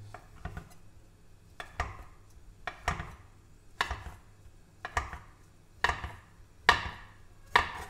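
A knife chops through folded homemade fettuccine dough on a board, eight or so crisp, evenly spaced thuds, close up and clear against a quiet kitchen.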